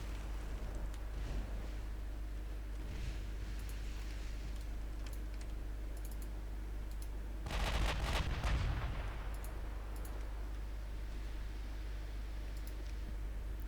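A naval gun salvo booms once at mid-distance in the warship game Ultimate Admiral Dreadnoughts, a short burst rising over a low steady engine drone and faint clicks.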